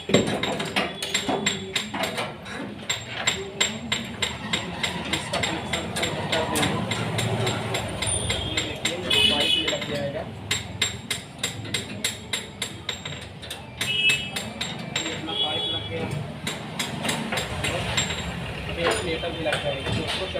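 Tightening clutch parts on a Sonalika 35 DI tractor with an 18 mm spanner brings rapid metallic clinks and taps, close and repeated, under someone talking with an engine rumbling in the background.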